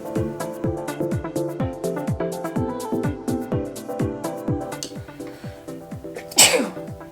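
A single loud, sharp sneeze bursts out near the end, following a steady, rhythmic run of plucked musical notes.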